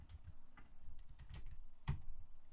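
Soft, fairly quiet keystrokes on a computer keyboard come in an irregular run of taps, with one slightly firmer press near the end.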